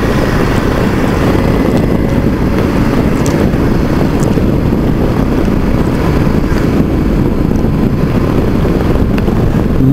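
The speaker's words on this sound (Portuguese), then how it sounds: "Moto muito boa." Loud, constant roar of wind buffeting the microphone over a droning engine while riding a Yamaha Drag Star 650 motorcycle at speed, steady throughout with no pauses.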